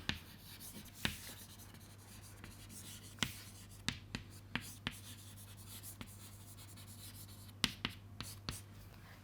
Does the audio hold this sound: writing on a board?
yes